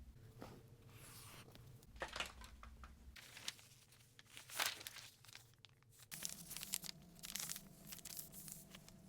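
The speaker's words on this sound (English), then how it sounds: "Taping it with removable tape." Removable tape torn from a roll and pressed onto a paper skirt pattern, giving quiet crinkly tearing and rustling bursts at close range in a calm room.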